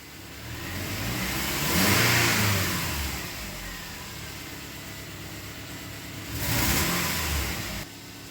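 Subaru Forester engine running after a no-start problem, with a slight stumble, revving up twice in broad rising swells over a steady close idle, no talking.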